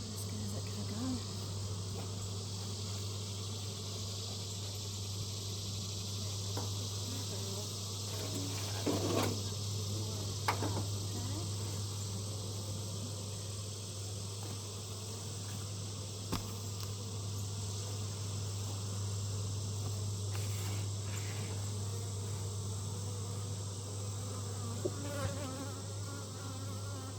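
Honeybees buzz around a hive in a steady, dense drone that fills the whole stretch. The swarm holds close and continuous, with a few brief louder passes and no speech.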